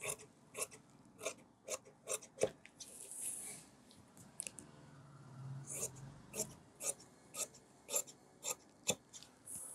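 Scissors cut a cross strip of blouse fabric on a tailoring table, giving a run of close, crisp snips at a steady rhythm, with soft rustling and handling noise in between.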